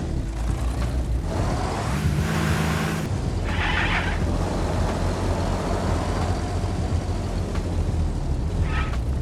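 A military vehicle drives in Arma Reforger, a continuous rumbling engine drone with road noise, punctuated by a brief higher whine and short clunks, heard close and steady throughout without talk.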